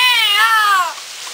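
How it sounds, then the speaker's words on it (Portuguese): A cat lets out one loud, close, drawn-out yowl with a wavering pitch, fading sharply near the end into quiet background. "do berro que o gato deu."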